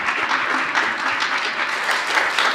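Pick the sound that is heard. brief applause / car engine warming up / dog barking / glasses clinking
brief applause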